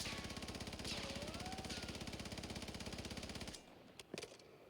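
Sustained rapid automatic fire from a video game weapon, a steady close rattle of evenly spaced shots for about three and a half seconds, then a couple of faint clicks.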